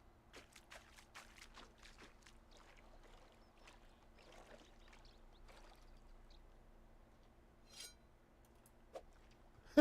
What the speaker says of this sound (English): listen as I walk in the water